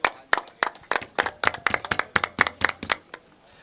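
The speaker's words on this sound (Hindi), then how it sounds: "एक बार जोरदार तालियां हो जाए योगेश भाई के लिए।" Scattered spectators at a cricket match of the Sanatan Premier League clap in a loose, uneven rhythm, about a dozen sharp close claps spread over a few seconds before tapering off.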